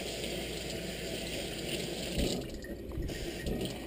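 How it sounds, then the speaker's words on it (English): Cold water runs steadily from a tap, with a brief splash or two as milkfish is rinsed under the stream. "Wash it, cold water."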